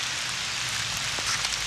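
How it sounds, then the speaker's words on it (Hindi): Rain falling outdoors near a seasonal stream channel in the Jim Corbett forest area, a steady dense hiss of drops on surfaces with no pauses and no talking. "थोड़ा बहुत बारिश पड़ रही है"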